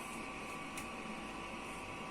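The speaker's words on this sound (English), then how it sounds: "The printer is starting." Steady mechanical whir and hum of a Videojet 1000 series industrial inkjet printer starting up, a constant faint drone with a brief click near the start.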